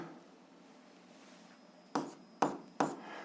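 Pen writing on paper while solving algebra, three short scratchy strokes close together near the end after a quiet stretch.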